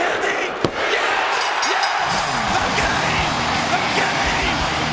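A wrestling arena crowd roars and cheers as the champion loses his title, a loud, dense wash of voices with yells and a sharp slam-like thud near the start, sustained throughout.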